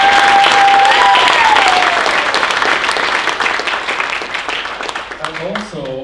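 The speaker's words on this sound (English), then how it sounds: "So Susan, let's give her another round of applause." Loud, dense applause from the audience at a university venture competition finals, sustained and close, with a whoop or whistle early on and voices rising as the clapping tapers toward the end.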